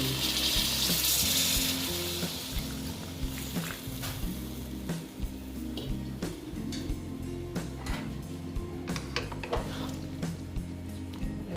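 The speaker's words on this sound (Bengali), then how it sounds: "গরম জল দিয়ে দিচ্ছি ঠিক আছে বন্ধুরা গরম জল অ্যাড করছি" Hot water poured into a cooking pan of potato, pointed gourd and soybean curry, giving a loud gush and then a steady bubbling, splashing flow with light clinks of the pan.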